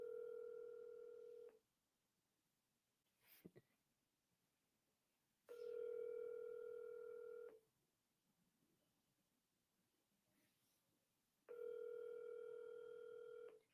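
Outgoing telephone call ringback: three long steady tone bursts of about a second and a half each, spaced by silent gaps, sounding clear and electronic over a faint line hiss.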